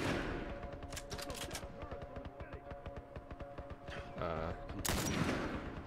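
Sustained rapid gunfire in The Last of Us Remastered, a steady stream of close, loud shots fired in quick succession, with a heavier burst near the end and little talk over it.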